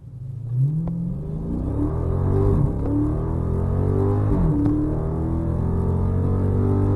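A car with traction control off accelerates hard from a standstill toward 60 mph on an open road, its loud, close engine rising steadily in pitch through the gears with no talking.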